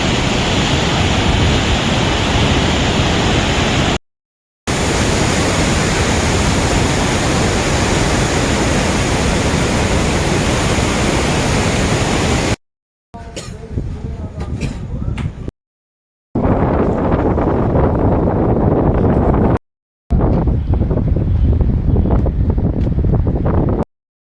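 Water roars through two opened gates at Kanjhari Dam in heavy monsoon flow, a loud, unbroken broadband rush close to the microphone, with wind buffeting and a few brief cuts between takes.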